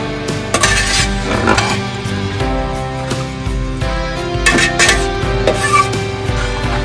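Salt being stirred into a Kerala-style chicken stew in a metal pot, with repeated spoon scrapes and clinks against the pot, fairly close and irregular, no talking.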